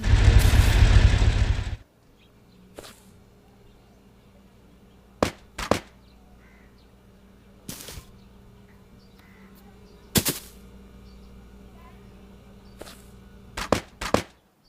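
Gunfire in the video game Hello Neighbor: a loud opening burst, then single sharp shots and short pairs spaced several seconds apart over a quiet background, ending in a quick cluster of shots.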